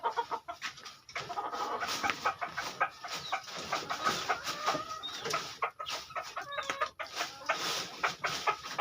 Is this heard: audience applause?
no